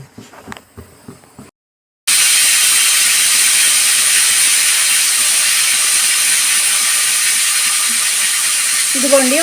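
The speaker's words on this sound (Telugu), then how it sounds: "ఇదిగోండి, ఒక విజిల్ వచ్చింది కదా," A pressure cooker cooking mutton biryani lets out a loud, sustained steam whistle. It bursts in abruptly after a short pause that follows some kitchen clatter and a brief voice, then hisses steadily to the end, where a voice starts again.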